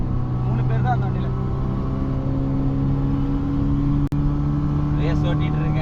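A car engine drones steadily at speed as if driven hard on a race track, a sustained, loud hum with a brief dip near the end, while people talk over it.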